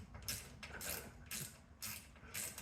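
A ratcheting wrench tightens the mount of a 60W LED dock light in quiet, close bursts of rapid clicking, five or so short runs separated by brief pauses.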